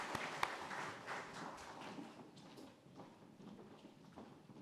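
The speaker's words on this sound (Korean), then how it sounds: "하나님께 영광의 박수 드립니다." A church congregation at a Sunday worship service breaks into applause, a faint, scattered clatter of hand claps that thins out over several seconds.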